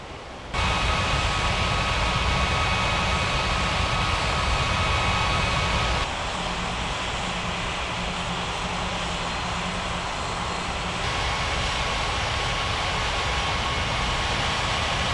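An aircraft taxiing at an airport gives a steady, loud engine drone with a faint high whine, holding constant for about fifteen seconds after an abrupt start, with a slight drop in level partway through.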